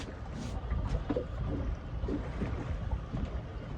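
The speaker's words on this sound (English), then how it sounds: "The wind is blowing." Wind gusts over a small fishing boat in a harbour, a low, muffled rumble of buffeting against the microphone with faint water sounds, steady and moderately quiet.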